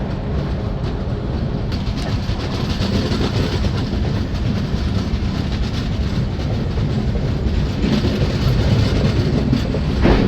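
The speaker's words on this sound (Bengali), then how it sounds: "ধানবাদ থেকে ট্রেন ছেড়ে দিয়েছে।" A Chambal Express train from Howrah to Agra Cantt rumbles steadily along the tracks at night after leaving Dhanbad, loud and continuous, with a rhythmic clatter of wheels running throughout.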